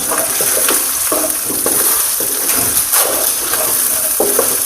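Carrots frying with chicken in a pan for chicken macaroni, with a steady close sizzle and intermittent scraping and stirring clatter throughout.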